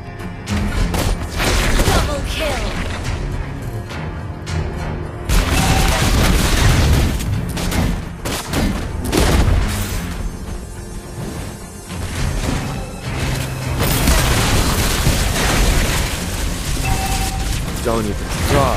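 Chaotic battle sounds from a mobile multiplayer arena game as a turret is destroyed: dense booms, crashes and impacts over music, with in-game announcer voice lines cutting in throughout.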